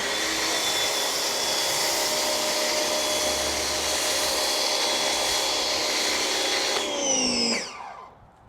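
A pressure washer sprays foam through a Quiver foam cannon, a loud, steady rushing hiss that runs unbroken for about seven seconds before dropping in pitch and winding down to quiet.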